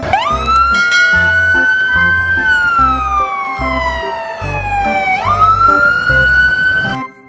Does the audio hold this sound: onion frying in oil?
no